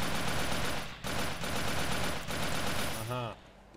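Rapid gunfire in MTA DayZ in dense, continuous bursts with a short break early on, ending in a quick sweeping tone.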